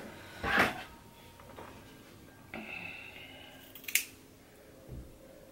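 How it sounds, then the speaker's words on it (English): Scissors cut the lace of a deep curly bob human-hair lace wig with a few close, sparse snips and rustles separated by quiet pauses, faint and intimate, no talking. "I'm going to put this hair away while I cut off my lace."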